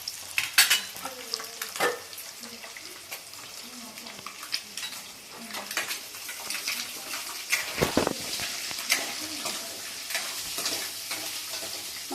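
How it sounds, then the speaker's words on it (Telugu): Egg curry ingredients fry over a low flame in a kadai with a crackling sizzle. Stirring scrapes and brief splashy, watery bursts keep recurring. "ఇది మంచి రంగులో వచ్చేంత వరకు సిమ్లో పెట్టేసుకొని ఫ్రై చేసుకోవాలి"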